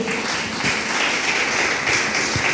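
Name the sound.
applause for Jesus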